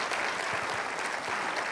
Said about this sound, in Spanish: Un aplauso para los hermanos, sí.